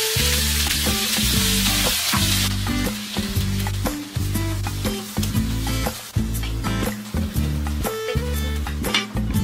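Onion, garlic and tomato sautéing for pork binagoongan, a loud steady frying sizzle with stirring close by, accompanied throughout by rhythmic background music.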